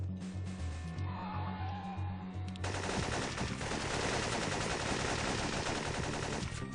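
A pump-action shotgun and other guns fire in a video game, rapid bursts of gunfire crackling continuously and loudly after a quieter stretch of rhythmic game music.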